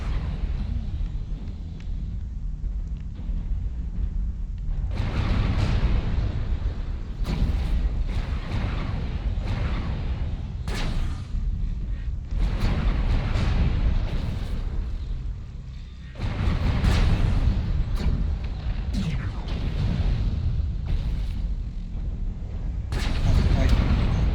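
Artillery strike explosions in the MechWarrior Online video game, heard as a string of heavy, rumbling booms and sharp bursts rolling one after another, with voices talking over them.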